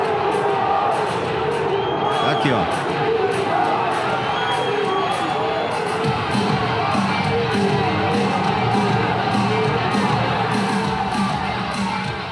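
A large stadium crowd of Botafogo football fans roars, jeers and insults the coach continuously, a dense wall of voices with scattered louder yells and a brief spoken remark nearby.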